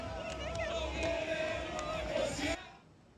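A crowd cheers and shouts in celebration as a freed hostage, Or, steps off a golf cart in the settlement and dances among them. The noisy, dense din stays loud and steady, then drops away sharply near the end.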